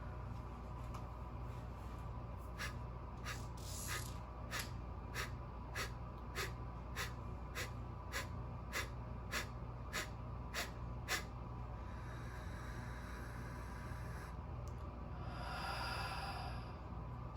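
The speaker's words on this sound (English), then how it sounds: "if we do say 15 sets of forced breathe out like this" Kapalbhati pranayama breathing: a steady run of about fifteen sharp, forced exhalations through the nose in an even rhythm, close but faint over constant background hiss, followed by softer, longer breaths.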